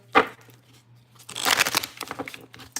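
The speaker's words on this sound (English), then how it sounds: "we're just going to do a few shuffles to see what that person's feelings are" Tarot cards being shuffled during a reading: a sharp riffle at the start, a pause, then a longer stretch of papery crackling and flicking, close and fairly quiet.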